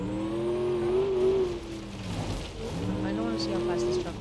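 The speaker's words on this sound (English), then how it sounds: "New superchargers sound really nice." A supercharged Gavril Bandito truck engine in BeamNG.drive drones steadily throughout, with a harmonic whine that rises and falls as it revs, dipping briefly midway before building again.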